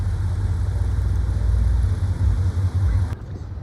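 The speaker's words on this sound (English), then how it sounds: "You can hear the engines" Car engines idle and pass outside an apartment complex near a college library, a steady low rumble with faint background murmur throughout before it suddenly thins out near the end.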